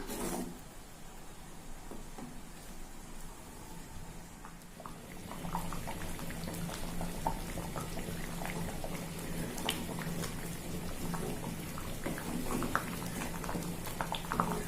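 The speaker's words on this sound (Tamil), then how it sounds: "இதெல்லாம் சேர்ந்து கொதிக்கட்டும்." Steady bubbling and soft popping of white sambar simmering in a pot, continuous and close, with occasional small spatters and no talking.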